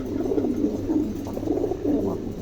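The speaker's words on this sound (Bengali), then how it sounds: "একদম নতুন নিউ অ্যাডাল, চমৎকার 1 জোড়া কবুতর," A pair of young adult pigeons coo in low, soft repeated bursts, close and steady over a faint background hum.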